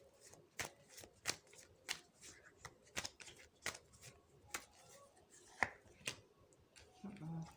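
Tarot cards are shuffled close up in a quiet room, with a series of crisp riffling snaps repeating roughly every half second.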